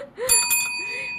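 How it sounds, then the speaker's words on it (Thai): A bicycle bell rings twice in quick succession, bright and close, its metallic ring fading briefly afterwards. "แหมมีกระดิ่งด้วยนะวันนี้นะคะ"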